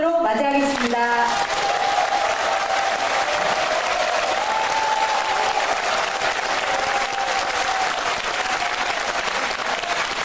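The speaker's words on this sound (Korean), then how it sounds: "그럼 문영배 재판관님을 큰 박수로 맞이하겠습니다" Sustained, dense applause from a lecture audience in Gwangju welcoming former Constitutional Court Justice Moon Hyung-bae, steady and loud for about ten seconds, with a voice speaking briefly at the start and faint tonal sound running underneath.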